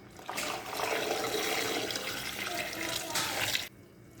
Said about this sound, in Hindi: अब हम इसमें 1 जग पानी डाल देंगे।